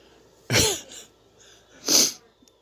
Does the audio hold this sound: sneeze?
yes